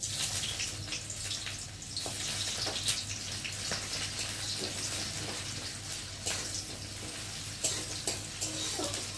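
Onions sizzle steadily in hot mustard oil in a wok, a soft, continuous hiss and crackle, close but fairly quiet, with no talking over it.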